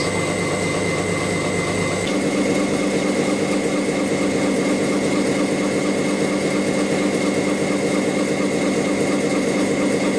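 A gear hobbing machine cutting a gear with multiple cutters, a loud continuous mechanical drone with steady tonal hum and rhythmic grinding texture that shifts slightly after a couple of seconds, running throughout.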